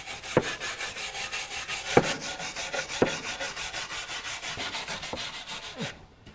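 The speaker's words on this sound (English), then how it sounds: "I thought I'd just give the chassis rails on either side a bit of a clean, just to get rid of the worst of that mud" Mud is scrubbed off the chassis rails of a Range Rover with a steady, rhythmic back-and-forth rasping, close and moderately loud, punctuated by a few sharper knocks and ending abruptly.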